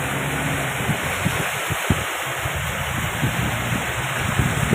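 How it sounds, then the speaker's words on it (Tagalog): Floodwater runs through a street after heavy rain in Al Ain, United Arab Emirates, producing a steady, broad rushing wash with occasional low splashes and thumps, heard alone and continuously. "Sobrang baha dito guys sa lakas ng ulan."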